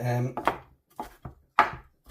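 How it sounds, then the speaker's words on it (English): Knife chopping three large garlic cloves on a board for a beef in black bean sauce stir fry: a handful of close, crisp, irregular cuts, loud and separated by short pauses. "I'm chopping up some garlic ready."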